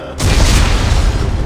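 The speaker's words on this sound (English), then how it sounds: "He didn't throw that grenade very far." A grenade blast in the sci-fi shooter Dead Space 3: a sudden, loud, broadband boom that rolls into sustained low rumble and debris noise lasting over a second.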